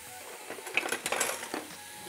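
Onion and garlic stirred in a pan with an old wooden spoon, giving a short burst of scraping, tapping and faint sizzling that swells in the middle and fades out, close by.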